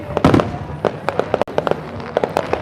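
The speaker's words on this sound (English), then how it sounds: "also in the background catch the beautiful fireworks" Fireworks crackle and pop in rapid bursts over a nighttime beach festival of lit sand sculptures, a dense, fairly loud barrage of sharp reports.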